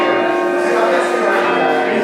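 Handbells from a church handbell choir ringing together in a loud, bright, sustained shimmer of overlapping tones that holds steady without any clear gaps.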